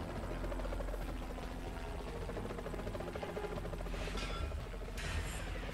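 A helicopter in the Renegade Ops video game drones with a continuous, steady rotor and engine buzz, evenly loud throughout.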